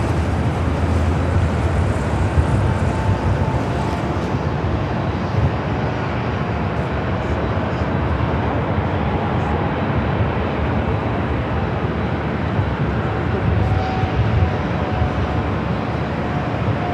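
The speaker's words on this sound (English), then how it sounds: "Southwest, flight 3799, coming in from Vegas, 737-700." A Southwest Boeing 737-700 airliner arriving at LAX from Las Vegas, with a steady, loud broadband jet roar that holds level for the whole stretch and blends with distant airport rumble, with no speech.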